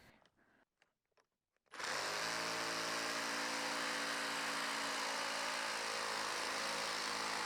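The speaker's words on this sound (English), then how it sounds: "I got a 1/2-inch drill that I'm going to use to kind of like get this started" After a few faint taps, a 1/2-inch power drill starts boring into a reclaimed wooden door, running steadily at high speed, loud and close, a continuous whining buzz that doesn't let up.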